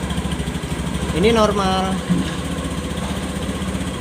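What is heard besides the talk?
scooter engine running with sticky throttle revving high by itself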